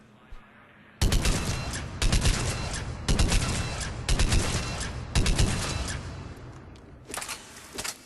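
Argus burst rifle firing at target practice in the video game Mass Effect 3, loud close three-round bursts repeating about once a second across the clip, with a softer burst near the end.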